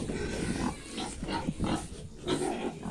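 Piglets in a farm pen grunting and squealing in repeated short bursts, several animals close by and fairly loud, with no talking over them.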